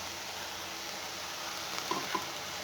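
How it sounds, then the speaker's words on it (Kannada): Onion masala with spices fries in a pan, giving a soft, even hiss throughout, with a couple of faint utensil taps late on. No one speaks. "ಇದೊಂದು ನಿಮಿಷ ಫ್ರೈ ಆಗಲಿ"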